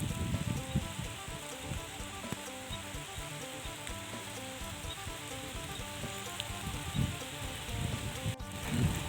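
Heavy rainstorm pours steadily over a rice field at harvest time, a dense continuous hiss of falling rain with spattering drops, loud and unbroken throughout with no voices.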